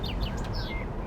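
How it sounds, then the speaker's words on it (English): Birds chirp and sing in open countryside beside a forest and fields, several short high calls over a steady low rumble of wind or ambient noise. "Oh, birds singing."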